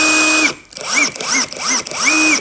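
A Tekiro 20V CDID2071 cordless impact driver whirs loudly up close, spinning up, briefly stopping, then revving in several repeated rising-and-falling bursts of motor whine.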